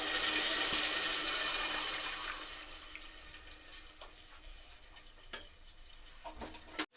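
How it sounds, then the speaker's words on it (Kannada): A loud rush of water poured into a pan of rava for upma fades over a few seconds into quieter trickling and small clinks, with a sharp knock near the end. "ಇದಕ್ಕೆ ಅಳತೆ ನೀರು ಹಾಕ್ತೀನಿ ನೋಡಿ."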